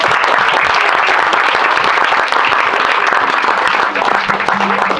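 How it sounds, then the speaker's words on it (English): Loud, sustained applause from a crowd at a family reunion, dense clapping continuing steadily throughout without a break. "I want to give applause to Mom and Dad for what they've done."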